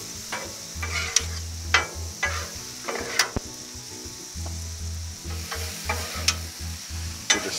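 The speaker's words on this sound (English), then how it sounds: "Let's stir this shrimp up real quick" Shrimp and steak sizzle on a Blackstone griddle as a spatula stirs them. Close, steady hiss is broken by repeated sharp metallic scrapes and taps, over a low humming drone.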